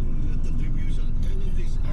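Heavy road traffic near Tagaytay, heard from inside a car: a continuous low engine and road rumble with passing vehicle noise and soft voices talking over it.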